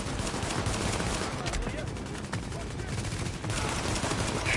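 Dense, continuous LMG gunfire rattles in The Division during a PS4 firefight, a loud unbroken fusillade with brief dips between bursts and players talking over it.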